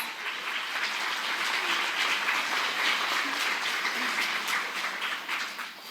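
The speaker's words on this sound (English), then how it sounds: "Miss Dolly. Give her a round of applause." Steady, even applause from an audience at an author's gala, a full dense wash of clapping that holds for several seconds before tapering slightly.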